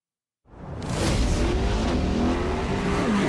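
A Chevrolet Corvette Grand Sport roars in after a moment of silence, its engine building to a loud, sustained rush with a rising whine, close and continuous to the end.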